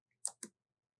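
A mouse left click followed by an Enter key press in embroidery software, two sharp close clicks in quick succession in an otherwise quiet room.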